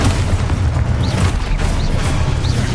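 Spell explosions in the game Hogwarts Legacy boom continuously and loudly through a dense, rumbling barrage of magical combat, with short whistling streaks cutting across the din.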